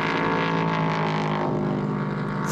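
A Nissan 5.6-litre naturally aspirated V8 race car engine at full power during Le Castellet qualifying, a loud sustained roar that drops in pitch partway through.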